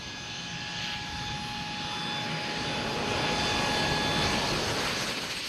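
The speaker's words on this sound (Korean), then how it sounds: "소방차가 마지막 경고를 하며 활주로를 떠나자 비행기가 착륙을 시도했다." An airplane's engine roar swells gradually as it comes in to land on the short runway at Funafuti, Tuvalu, a steady loud whine over a broad rushing rumble, with no voices.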